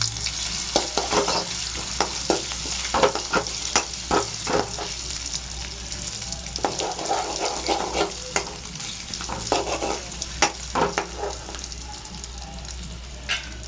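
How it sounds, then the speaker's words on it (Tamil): Ginger, dried chillies and garlic fry in hot oil in a pan while a spoon stirs them, giving a continuous close sizzle broken by repeated scraping and clinking of the stirring, with no talk. "நல்லா கொஞ்சம் செவர வதங்கட்டும்."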